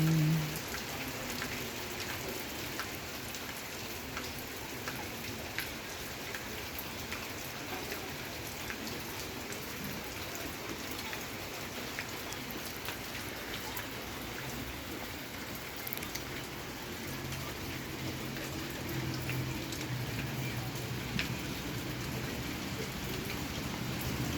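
Steady rain pours down in a rural village, a dense hiss of drops striking surfaces that swells heavier for stretches and then eases off, continuous throughout with no voices.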